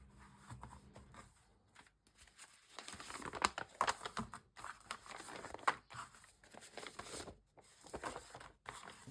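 Paper bags being crumpled and handled at close range, giving irregular crinkling rustles and soft crackles with brief pauses in between, continuing steadily for several seconds.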